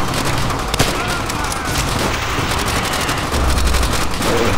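Sustained machine gun fire in Call of Duty: World at War, dense rapid bursts of gunshots rattling continuously at close range with battlefield noise behind.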